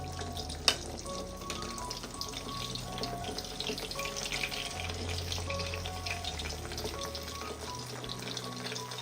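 Bananas frying in oil, giving a soft, steady sizzle and bubbling with a single sharp click early on, all fairly quiet.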